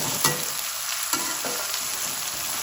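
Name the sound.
ginger garlic paste frying in pan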